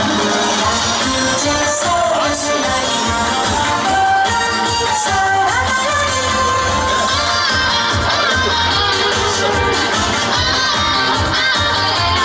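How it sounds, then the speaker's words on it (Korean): A festival crowd at an outdoor downtown culture event in Sangju cheers and shouts loudly over dense, steady live music that runs throughout. "큰 박수 부탁드립니다."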